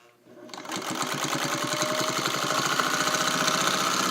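A restored Singer 301A sewing machine stitches through four layers of muslin, starting up and quickly settling into a fast, even, rapid mechanical chatter that runs loud and close without a break.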